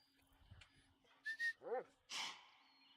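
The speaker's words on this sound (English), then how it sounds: "Dog." A dog in the hunting game The Hunter: Call of the Wild, Silver Ridge map, gives a few short whining, whistle-like calls and a yelp, spaced over a few seconds against quiet game ambience.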